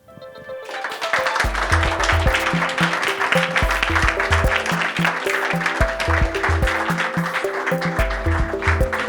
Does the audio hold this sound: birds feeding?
no